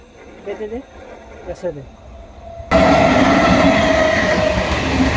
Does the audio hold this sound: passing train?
yes